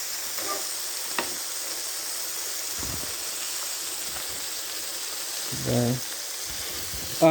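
Burger patties frying in grease in a pan, a steady soft sizzle and hiss with faint scraping, quiet and close, with brief speech near the end.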